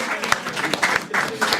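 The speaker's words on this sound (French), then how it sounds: "Et on peut applaudir Océane également." A studio audience at a French comedy show applauds briefly for Océane, a short burst of clapping in uneven pulses lasting under two seconds.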